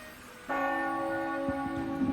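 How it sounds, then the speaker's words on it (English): The one o'clock bell rings in the video game The Legend of Heroes: Trails beyond the Horizon, a single loud, resonant toll that starts abruptly and then sustains with a long, ringing tail. "The 1 o'clock bell! Oh, my ears."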